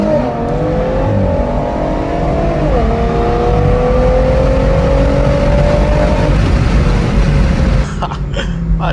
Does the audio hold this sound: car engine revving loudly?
yes